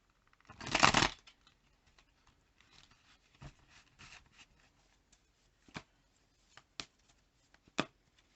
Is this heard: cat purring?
no